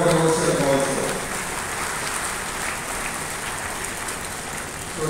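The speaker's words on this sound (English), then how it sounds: "You can clap for him and clap for yourself also." Audience clapping at an academic gathering, starting as a loud burst with a fading voice underneath, then settling into steady, even applause that continues to the end.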